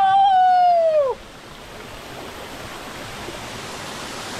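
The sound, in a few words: forest waterfall, Parupu Bandalu falls, Srisailam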